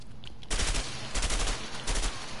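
Pump-action shotgun fired in the video game A Way Out, booming three times at roughly even intervals with noisy game ambience underneath and no talking.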